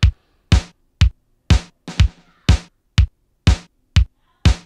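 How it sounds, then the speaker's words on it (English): Programmed drum beat on a Synthstrom Deluge with hi-hat added: nine sharp, evenly spaced hits at a steady groove, clean and close with no talking. "So that's the main beat, and then with the hi-hat, sounds like this."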